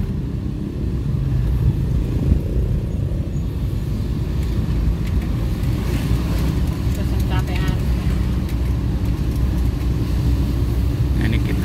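An old Suzuki Carry van drives in third gear, its engine giving a steady low rumble along with road noise inside the cabin while people talk over it.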